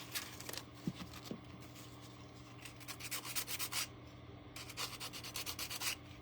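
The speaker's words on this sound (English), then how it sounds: "Let's sand this a little." Sandpaper rubs over a painted eagle shelf sitter figure in steady back-and-forth strokes, a close, soft scratchy hiss that comes in bursts.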